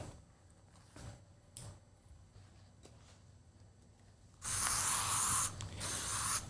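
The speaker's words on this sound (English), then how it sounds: "when you're spraying anything onto the hair" Hair product sprayed onto hair in a short burst of loud, close aerosol hiss, preceded by a few soft clicks and handling taps.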